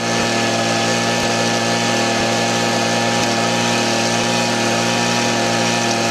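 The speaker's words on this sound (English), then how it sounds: "it's got air blowing up through the bottom of the mat" Constant mechanical drone of an engine-driven air blower pushing air up through a dry sluice mat for gold prospecting, steady and close, with faint periodic clicks and no speech.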